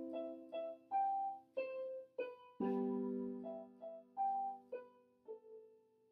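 Piano melody played with chords underneath, a simple four-chord song, each sustained note and chord struck in a steady, gentle rhythm, sounding clear and close with no voices.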